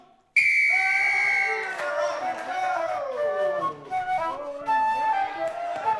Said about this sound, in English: Hooray, hooray, on my whistle. 3, 2, 1.